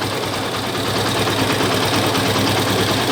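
A car engine idles smoothly and steadily after a rattle repair, a close, continuous hum with no knocking, heard alone throughout.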